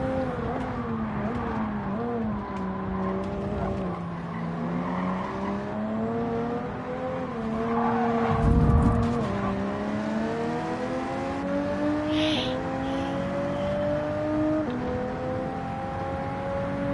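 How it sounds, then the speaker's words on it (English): Toyota Supra racing in Gran Turismo 7: a continuous, loud engine note rising and falling through gear shifts, with a brief burst of tire noise around the middle and other cars faintly behind. "This Toyota Supra will help me get to where I need to be"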